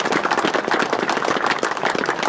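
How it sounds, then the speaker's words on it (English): A crowd applauds at a Highland Classic two-day motorcycle trial rider briefing in 2018, a dense, steady round of clapping that sustains evenly throughout at close range. "One more round of applause."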